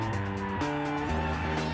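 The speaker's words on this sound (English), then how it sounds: "Listen to that engine." Lexus LC 500 GT car with a V8 and 10-speed transmission revs hard on a race track, its engine note climbing through short rising bursts between quick gear changes, loud and close.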